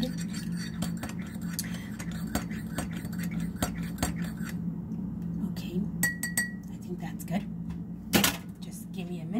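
A spoon stirs an apple cider vinegar drink in a glass, giving a run of light clinks and scrapes against the glass over a steady low hum, with a sharper knock near the end.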